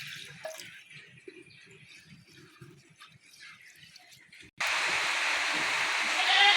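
Rice being rinsed 3 to 4 times under a kitchen tap for pulao. A few quiet drips and soft handling noises come first, then the tap opens abruptly into a loud, steady gush of running water.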